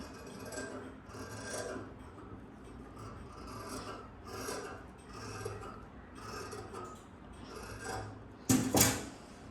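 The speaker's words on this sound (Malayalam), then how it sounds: "ഓപ്പൺ ചെയ്ത് വെച്ചിട്ടാണ് നമ്മൾ ഇവിടെ എടുത്തിട്ട് ഇതുപോലെ ഇങ്ങനെ ഒന്ന് കട്ട് ചെയ്ത് കുഴിച്ച് കട്ട് ചെയ്ത് പോകുന്നത്" Scissors cut the armhole of a blouse fabric piece in repeated rasping snips close by, a regular rhythm of cuts with one louder sharp clatter near the end, and no talking.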